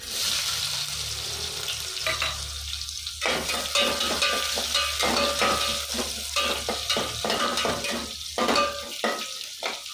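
Onion, curry leaves and garlic fry in hot oil for a tempering, a loud continuous sizzle that swells after a few seconds, with spoon scrapes and stirring clatter on the pan throughout.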